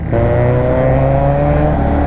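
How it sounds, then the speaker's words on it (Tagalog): A motorcycle engine on a road ride kicks in abruptly and holds a loud, steady droning hum close by for about two seconds, with no talking. "Ingay-ingay pa ng motor."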